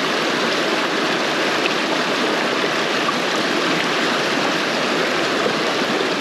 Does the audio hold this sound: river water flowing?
yes